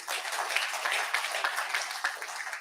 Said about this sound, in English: So a good round of applause for yourself also.